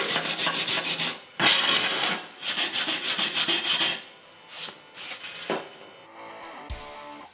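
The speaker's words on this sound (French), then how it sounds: "Une fois le laitier enlevé, je vais brosser ma soudure." Wire brush scrubbing a freshly welded MMA bead after the slag is chipped off, rapid raspy back-and-forth scratching in close bursts separated by short pauses, fading into lighter strokes toward the end.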